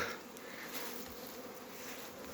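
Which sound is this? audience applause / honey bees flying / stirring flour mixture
honey bees flying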